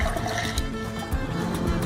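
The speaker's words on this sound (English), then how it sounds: "Let's just pour the water out." Salty water pours out of a glass in a short, close splashing trickle that runs steadily for a couple of seconds.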